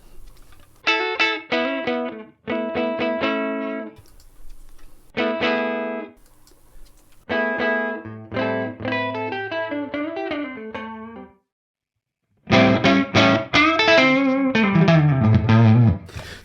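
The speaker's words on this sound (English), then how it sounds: "Let's move through these presets." An electric guitar on the neck pickup, miked with an SM57, plays bursts of chords and single-note phrases through Universal Audio Woodrow tweed Deluxe amp presets, with crunchy distortion and short gaps between passages, loud and close with no talking.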